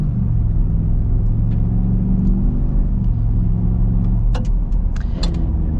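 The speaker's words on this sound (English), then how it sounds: "these Super Duties really, without all-terrain tires, really struggle in the gravel" A 2026 Ford Super Duty pickup with a 6.8L or 7.3L V8 driving on gravel in two-wheel drive, a loud continuous engine rumble with crunching tire noise and a few sharp ticks near the end.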